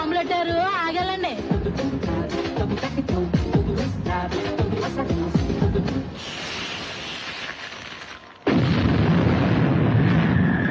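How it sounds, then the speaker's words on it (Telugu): Bombs explode in the hills in a film scene, a sudden loud broadband blast erupting near the end after a stretch of dramatic music and voices. "కొండలకు బాంబులు పెట్టారు"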